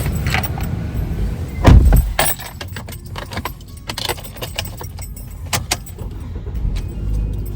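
Keys jangle in close, bright clusters while someone settles into a car, with a heavy thud of a seat or door, rustling and intermittent metallic clinks continuing throughout.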